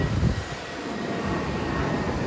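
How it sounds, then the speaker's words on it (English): An airplane flies over a beach near the Myrtle Beach airport, its engine giving a steady, broad roar that holds level and fairly loud through the whole stretch, with no voices. "So you get to watch airplanes as you're shelling."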